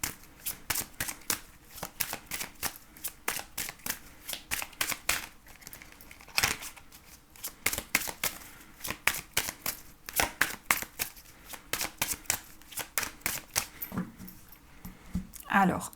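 Tarot cards being shuffled in a steady run of crisp riffling bursts, close and fairly loud, continuing throughout with a brief pause midway.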